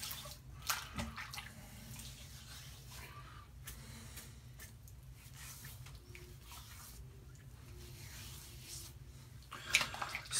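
Running water rinses a face after a wet shave, a steady soft splashing and trickling close by, fairly quiet with occasional louder splashes and drips.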